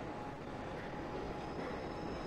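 A train running steadily, a continuous rumbling roar with faint wheel noise, fairly quiet and even throughout, no voices.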